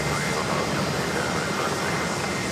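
JetBlue jet taxiing toward its gate at JFK Terminal 5, a steady broadband engine roar heard from a distance with no change in level.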